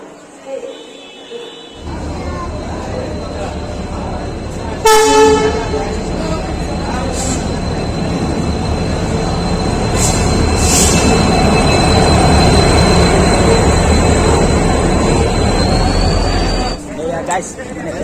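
A train rumbles through a busy railway station on a journey from Assam toward Siliguri, a loud continuous roll with a sharp horn-like burst and a steady high whine, while people talk over it.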